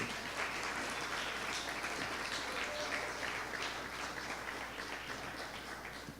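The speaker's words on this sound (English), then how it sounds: "let us give the participants a final round of applause for their work here today" An audience at a state finals event for junior and senior participants gives a final round of applause, a steady, fairly distant wash of many hands clapping throughout, with no talk.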